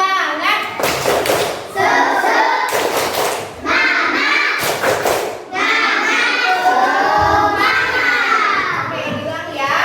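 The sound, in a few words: children doing a rhythmic spirit clap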